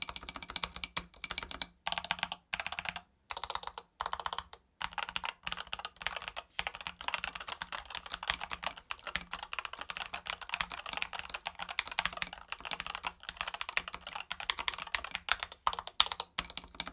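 Rapid keystrokes on a gaming keyboard with rapid trigger adjustable switches and double layer dampening foam, a steady stream of close, crisp clacks with short pauses, no talking.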